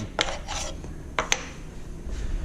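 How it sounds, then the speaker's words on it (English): Sawdust being pushed and pulled out of a large hole bored with a paddle bit on a drill press: two pairs of short scraping rasps of wood debris, close and clear, with quiet gaps between them. "I'm going to push the sawdust out of the way"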